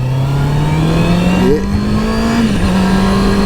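Honda CB650R motorcycle pulling in second gear up a rising bend, its engine note climbing steadily and smoothly under moderate throttle, close and loud, with a brief shift in tone midway.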